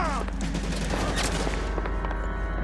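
In the video game L.A. Noire, a shotgun fires amid a dense burst of gunshots, loud and continuous, with rapid overlapping blasts and booms across the whole stretch while a voice talks faintly beneath.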